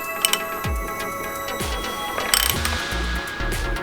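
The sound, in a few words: turning the crank pulley slowly by hand on a VW 2.0T TSI engine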